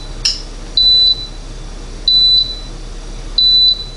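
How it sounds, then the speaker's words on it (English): An Emeril Lagasse pressure cooker air fryer sounds its cycle-end alert: three sustained high electronic beeps, evenly spaced and clear, each about a third of a second long, with a faint click before the first. "it's finished with the cycle that it was cooking through and doing several beeps to let me know that it's done"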